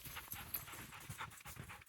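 A dog pants close by in quick, rhythmic breaths that continue steadily with no voices.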